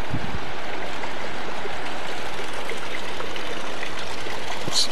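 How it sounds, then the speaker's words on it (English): Small waterfall at a hot spring in Olympic National Park, a steady splashing rush of falling water close by, continuous and even with no voices. "This one has a little waterfall."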